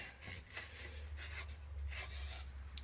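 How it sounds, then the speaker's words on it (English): Scotch-Brite pad scrubbed back and forth over an engine part surface during a Mazda CX-9 water pump and timing chain replacement, with rhythmic close rasping strokes roughly every half second and no talking. "I like Scotch-Brite, just rub it down, sand it down a little bit, take some of that grit off"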